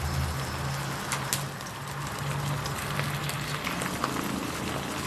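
Sauce boiling steadily in a pan for a stir-fried beef and shrimp dish, a continuous bubbling and hissing that stays fairly loud and even, with a low hum underneath.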